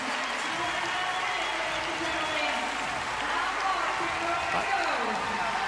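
Arena crowd at the 2023 CrossFit Games roaring and cheering steadily for athlete Roman Krennikov, a dense continuous wash of voices with a commentator talking over it.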